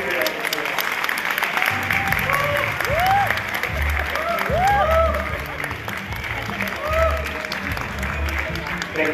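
Audience applause at a Filipino organization event in Tokyo, steady clapping from a sizeable indoor crowd lasting throughout, with a voice speaking over it in the middle.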